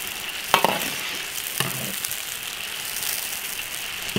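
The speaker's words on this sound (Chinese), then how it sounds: "先把那个脆骨炸一下，用小火慢慢炸，把这个脆骨给它炸熟" Cartilage deep-fries in plenty of oil over low heat, a steady close sizzle and bubbling crackle with a couple of sharper clinks from stirring, no talking.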